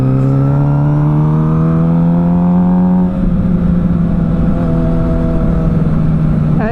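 A custom-built Suzuki GSX-R 600 track bike rides along a public road, its engine revving up in one gear, dropping sharply at a shift, then pulling again, loud and close with wind noise.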